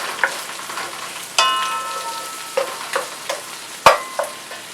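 Ingredients for pork and chicken adobo sautéing in a pan over medium heat, a steady close sizzle broken by several sharp scrapes and clanks of a utensil against the pan, one loud knock near the end.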